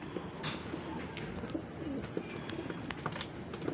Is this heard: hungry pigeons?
yes